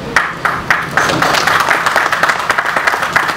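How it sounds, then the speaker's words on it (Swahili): Audience applause breaks out after news that Tanzanian football clubs such as Simba will join the ACA, a dense, sustained wash of many hands clapping with sharper bursts of claps rising through it, fairly loud and steady. "response yake ndio hayo makofi ambayo tumeyasikia"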